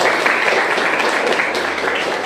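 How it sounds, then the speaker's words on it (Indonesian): A classroom of students claps together briefly in a loud, dense burst of hands that holds steady throughout. "tepuk tangan untuk kita semua"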